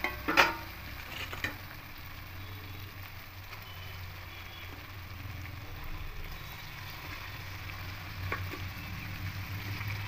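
Whole loitta fish dropped into spice paste in a pan, a sharp burst of sizzle and clatter at the start, then a low, even frying hiss with a couple of later knocks.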